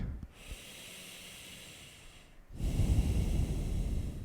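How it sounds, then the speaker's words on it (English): Slow, deep yoga breathing: a long soft inhale followed by a fuller, louder exhale, close and quiet with breathy hiss. "Breathe in fully. Exhale slowly."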